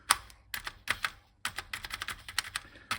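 Reed keyboard switches on a refurbished Partner 01.01 computer keyboard being fiddled with, giving sharp, close clicks in uneven bursts with brief pauses between clusters and no talking.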